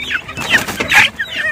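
Chickens in a pen cluck several times in close, loud bursts, with a few overlapping calls.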